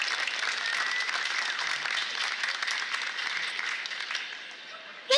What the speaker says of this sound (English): Please give our board a very big round of applause.